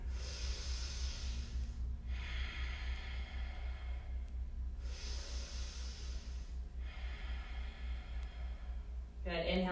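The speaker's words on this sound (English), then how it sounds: "2 more big breaths" Slow, deep breaths during a yoga balance pose: long steady inhales and exhales in a regular rhythm, close and clear over a constant low hum.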